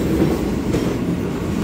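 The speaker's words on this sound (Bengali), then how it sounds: "ট্রেন ঢুকছে" A train rolls into a station, its steady rumble and clickety-clack of wheels continuous and moderately loud throughout, with no talking.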